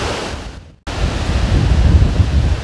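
Wind gusting across open moorland on Dartmoor, a loud continuous roar with heavy buffeting on the microphone, briefly cut off by a short silence before the blustering resumes.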